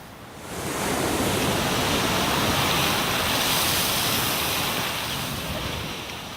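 An Icelandic geyser erupts with a dense, roaring hiss of spraying water and steam that swells up quickly, holds steady for several seconds, then eases off slightly, with no talking.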